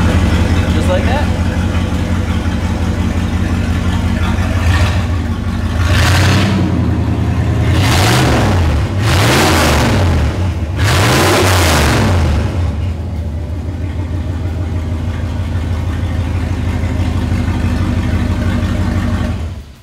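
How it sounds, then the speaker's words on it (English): A big-block American V8 in a classic truck idles with a deep, steady rumble, then revs loudly in several sharp bursts before settling back to a low idle, close by. "Big, big block American V8. Can't beat that sound."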